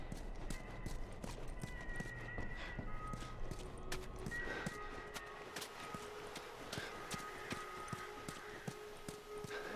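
Clip-clop of horse hooves in a steady walking rhythm from the video game The Last of Us Remastered, fairly quiet, with a few sharp taps and faint background tones.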